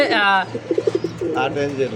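A pair of Art Angel pigeons, golden bar coloured, coo in a short run of soft rhythmic pulses close by, with someone talking over them before and after.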